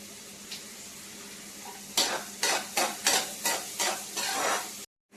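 Onions sautéing in hot oil with a pinch of salt, a steady sizzle under a series of sharp, rhythmic scrapes and stirs of a spoon against the pan, ending abruptly.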